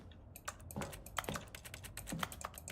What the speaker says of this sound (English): Wait, it still has the keyboard sounds.